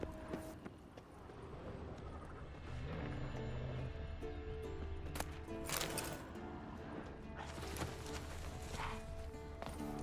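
Horse hooves clop steadily in The Witcher 3 as the horse walks through a camp, a soft rhythmic patter under a continuous bed of ambient game sound and music.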